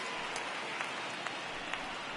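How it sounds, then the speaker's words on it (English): Steady rain falls on a baseball field during a Blue Jays at Indians game, a soft even hiss with a few faint ticks and no voices. "the conditions aren't ideal with the rain coming down"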